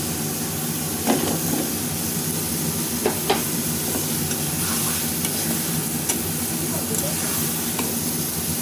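Prawns fry and are stirred in a pan for a home-cooked Bengali meal, giving a steady close sizzle with occasional scraping clicks from the stirring throughout.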